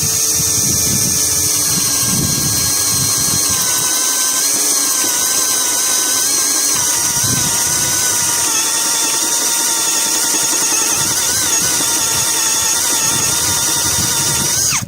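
A DEVETECH CS-45 compact cordless screwdriver drives a 38 mm bit into material, giving a loud, steady high-pitched whine with strained motor harmonics that waver as the load changes, running almost without a break.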